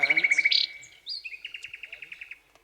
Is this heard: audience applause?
no